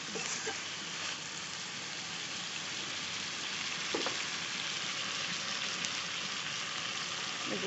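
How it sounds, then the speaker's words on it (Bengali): Chicken pieces cooking with potatoes in a pan give a steady, moderate sizzle, with a soft stirring scrape partway through and no talking. "এই যে দেখুন মাংসটা নাড়াছাড়া দিচ্ছি"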